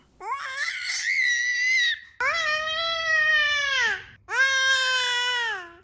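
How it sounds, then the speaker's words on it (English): A baby girl screaming in three long, loud, high-pitched wails separated by short gasps, close and alone with no talking. "why is she screaming like that?"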